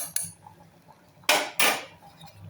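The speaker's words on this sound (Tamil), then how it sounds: "கொஞ்சம் மூடி வைப்போம்." Two sharp metallic clanks in quick succession, close by, as a lid is set down on a pot of simmering chicken curry, with quiet kitchen background between.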